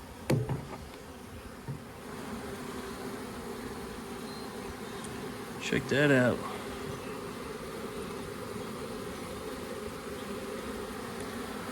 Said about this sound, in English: It's pretty loud. There might be a lot of bees in here.